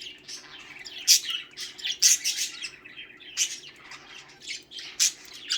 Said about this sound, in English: That's a cute bird.